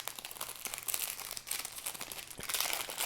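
Parchment paper, just folded and cut into a circle to line cake pans, crinkles and crackles steadily as it is unfolded close by, with no voices.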